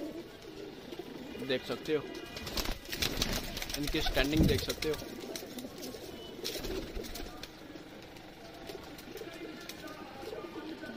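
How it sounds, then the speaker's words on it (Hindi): Ali and Teddy breed pigeons coo and murmur in a loft, soft calls scattered under someone talking throughout. "तो दोस्तों, ये इनके अली वाले कबूतर"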